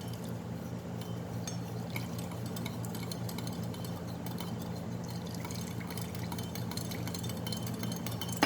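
Distilled water pours steadily into a mixing container for a disinfectant surface spray, making a continuous close splashing trickle with no break.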